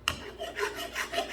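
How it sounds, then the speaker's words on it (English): A flat file rasps around the circumference of a ring gear carrier from a 2016 Jeep Wrangler rear differential: a close, steady rubbing scrape in a few strokes. "I like to use a flat file to go around the circumference here and make sure that there's no imperfections."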